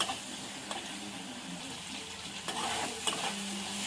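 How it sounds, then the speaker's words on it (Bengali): Tomato masala with ginger-garlic paste, turmeric and ground chilli sautéed in oil for a soybean curry, giving a steady close sizzle with a few sharper scrapes of stirring and no talk. "এবার ভালো করে কষিয়ে নেব।"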